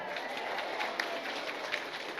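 An audience at an Islamic religious lecture claps in a steady, moderately faint wash of applause, with a few sharper individual claps standing out from the crowd.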